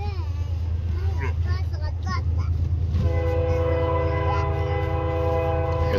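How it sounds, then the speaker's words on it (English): A train rolls past in the background near a field of calves: a low, steady rumble joined midway by a sustained, droning horn blast that carries to the end. "Train coming in the background."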